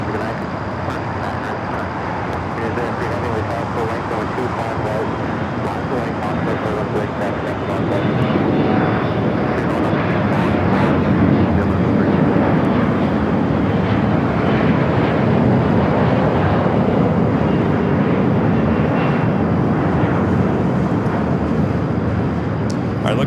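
Heavy jet airliners take off from the south side runways at LAX at night, a loud, continuous engine roar that swells and holds from mid-distance, layered over a steady background hum.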